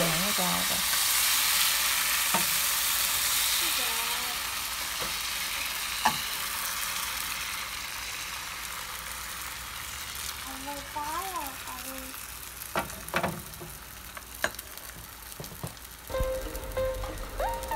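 Vietnamese bánh xèo pancake frying in plenty of oil, a steady sizzle throughout with occasional clicks and clatter of utensils near the end, a voice speaking briefly partway through.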